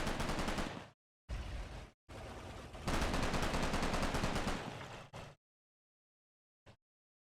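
Bursts of gunfire from units in the WWII tactical game Combat Mission: Red Thunder, several loud sustained volleys separated by short silences, then one brief final shot, with no talk over it.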